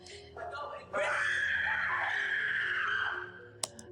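A boy's long, loud, sustained scream, as if acting as a zombie, lasting a few seconds, preceded by brief voices and ending with a sharp short sound.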